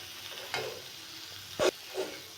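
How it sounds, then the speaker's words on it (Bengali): Nimki dough pieces fry in oil with a soft, low sizzle, broken by a few short, sharp clinks and scrapes of a utensil in the pan. "বাকিগুলো আমি একইভাবে ভেজে নেব।"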